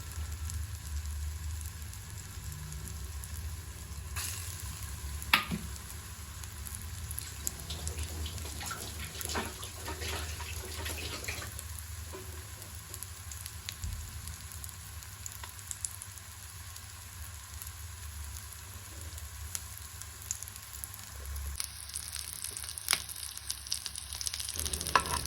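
Boiled potato and egg chops fry crisp in a pan of hot oil, a steady close sizzle and crackle running throughout with occasional louder pops and faint kitchen clatter.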